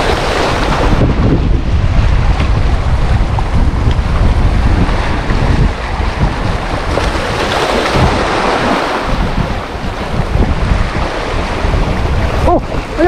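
Strong wind at sea buffets the microphone with heavy roaring gusts over the rush of waves, loud and constant, during a fishing trip.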